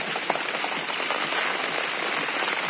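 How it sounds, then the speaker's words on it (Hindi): Heavy rain pours steadily onto a guppy fish farm in Kolkata, a dense, loud, continuous hiss close by. "बहुत ज़्यादा बारिश हो रहा है।"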